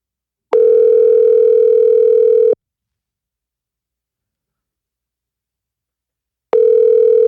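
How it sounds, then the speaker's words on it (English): An international call's steady electronic ringback tone sounds for about two seconds, falls silent for four, then starts again, loud and clear with no talking. "It's ringing like if he's in the U.S."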